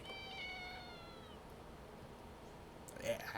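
A cat meows once in a horror video game, a faint drawn-out tonal cry at the start fading into quiet ambience, followed by a brief soft rustle near the end.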